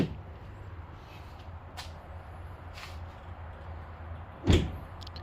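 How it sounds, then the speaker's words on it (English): A Ford F-150 truck tailgate fitted with a damper swings down slowly and quietly, with faint creaks, before settling with a single soft, low thud near the end. "Do you want your tailgate to open slowly like this instead of coming and slamming down"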